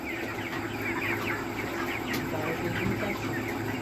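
Chickens in crates at a sale cluck and squawk continuously at close range, their busy calls mixed with surrounding market noise.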